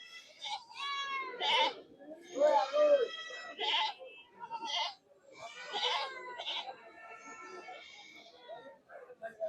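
Goats at a large goat market in Rustampur, Bagha, Rajshahi, bleat repeatedly in loud, wavering calls from close by, with several animals overlapping.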